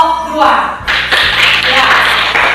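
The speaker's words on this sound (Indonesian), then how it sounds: "Tepuk tangan untuk kelompok 2." A classroom of students applauds a discussion group during a lesson, with loud, dense clapping that starts after a brief pause and continues steadily, with voices mixed in.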